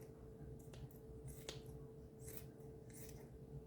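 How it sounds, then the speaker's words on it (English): Kitchen cooking shears snipping excess skin off raw chicken quarters, several faint, crisp cuts spaced irregularly over a quiet hum. "I'm going to take my cooking shears and I'm going to cut it"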